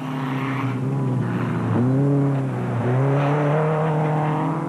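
Space frame race cars roar past at the 2006 Sugarbelt 400 race, their loud engines rising and falling in pitch through gear changes, overlapping and continuous, with no voices.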